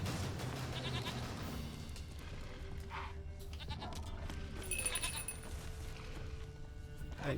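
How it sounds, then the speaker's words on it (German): A few goat bleats in The Witcher 3, brief mid-level calls over a constant game ambience of music and background noise. "Lass die Ziege in Ruhe."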